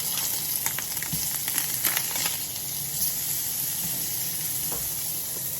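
Chicken pieces sizzle in a pan after being flipped while cooking creamy garlic chicken, a steady close frying hiss with a few light clicks from turning and stirring.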